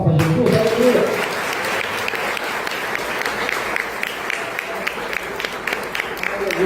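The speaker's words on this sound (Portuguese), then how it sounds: "Quem vê isso, pode dar uma salva de palmas para Jesus." Church congregation applause during a sermon, beginning with a brief voice over the start and then settling into a steady patter of clapping with some sharper individual claps standing out.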